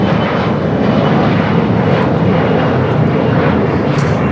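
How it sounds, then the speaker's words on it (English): An Air Tahiti Nui Boeing 787-9 Dreamliner arrives at LAX from Papeete, a loud, steady jet roar that stays constant without any talking. "Air Tahiti Niue, the Dreamliner, coming in from Papeete, flight 102, 6-year-old to 787-9 Dreamliner"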